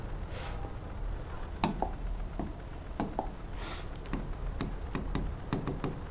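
Teacher writing a solution on a classroom board: quiet, irregular taps and short scratchy strokes of chalk or marker over a low background hum, with no talking.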